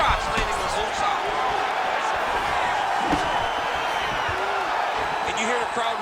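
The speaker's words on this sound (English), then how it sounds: "you hear the crowd react every time they come together because they understand the power that these guys are striking with" A virtual arena crowd in EA Sports UFC 5 roars and swells as heavy strikes land in a fight, a dense continuous murmur with sharper thuds and bursts of cheering, with a commentator talking over it.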